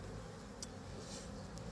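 Honeybees buzz at an opened hive as a beekeeper works slowly through the frames, a faint, steady low drone with a couple of brief higher sounds over it.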